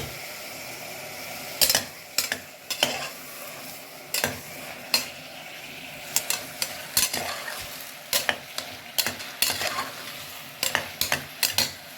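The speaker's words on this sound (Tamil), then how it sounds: "இந்த கத்திரிக்காவை எடுத்து இதில் போட்டுடலாம். எல்லாமே போட்டு கலரி கொடுத்துடலாம்." Brinjal pieces fry in a pan, with a soft sizzle under repeated sharp clacks and scrapes of a spoon stirring against the metal, in irregular bursts close by.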